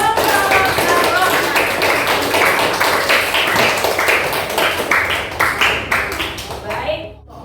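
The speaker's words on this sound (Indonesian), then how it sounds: "Beri tepuk tangan untuk kelompok Ar-Rahman." A class applauds a presenting student group: a loud, steady patter of many hands clapping in a classroom, fading out at the end, with voices faintly mixed in.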